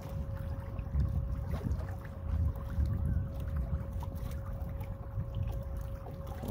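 A homemade 2.5 kW electric outboard motor pushes a boat at about half throttle, around 2 knots: a quiet steady whine with a constant tone over low rumbling water and wind noise, no voices.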